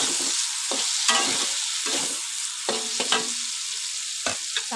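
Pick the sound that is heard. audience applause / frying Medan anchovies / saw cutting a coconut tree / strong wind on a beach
frying Medan anchovies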